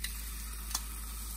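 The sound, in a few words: pork chops sizzling in a frying pan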